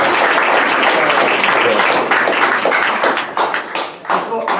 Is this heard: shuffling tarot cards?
no